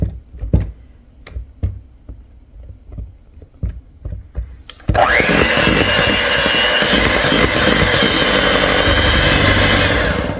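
After several light taps and clatters, an electric mixer starts up mixing peanut butter cake batter, a loud continuous motor whir close by that holds steady to the end.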